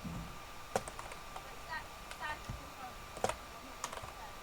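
A name being typed on a computer keyboard during a Minecraft livestream, scattered light key clicks in short irregular bursts, soft and close over quiet room noise.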